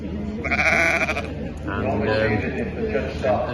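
A Dutch Spotted sheep bleats in the judging ring at the Great Yorkshire Show livestock competition, one clear wavering call near the start, with someone commentating over the rest.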